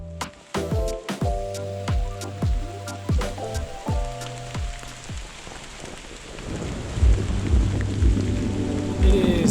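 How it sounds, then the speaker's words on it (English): Steady rain falls at Colbert Ferry along the Natchez Trace Parkway in Alabama, a continuous hiss of drops on surfaces with scattered sharp taps, and a low rumble building toward the end. "It's been raining all day"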